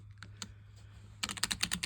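A few scattered keystrokes on an ROG Azoth mechanical keyboard, then a quick burst of rapid typing, close and fairly quiet over a low steady hum.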